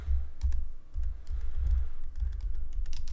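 Keys clatter on a computer keyboard as a name is typed into a PC racing game menu, a quick irregular run of close, crisp clicks over a low steady hum.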